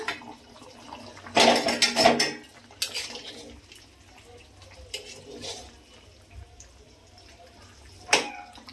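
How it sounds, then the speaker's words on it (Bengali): A metal lid lifted off a pot of young goat mutton curry with potatoes, making loud clattering clanks followed by quieter scattered knocks of metal and a final sharp clink. "ঢাকনা খুলে দেখি বন্ধুরা হয়ে গেছে কিনা।"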